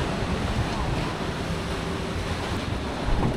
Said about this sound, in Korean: 옆에 배 한번 지나가보이 막 파도 치고 난리다요